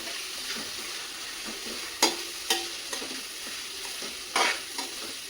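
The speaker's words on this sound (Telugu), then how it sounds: "ఆనియన్ వేగిందండి." Sliced onion frying with salt and turmeric for semiya upma, a steady close sizzle broken by a few sharper clinks and scrapes of stirring, with no voices.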